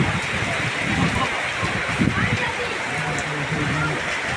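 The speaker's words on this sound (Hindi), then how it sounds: "देखते ही देखते बादल काले हो गए और तेज हवाओं के साथ जोरदार बारिश हुई।" Heavy rain with strong winds pours over Nanpara town in Bahraich, a dense and steady roar of falling water that fills the whole stretch, with faint voices underneath.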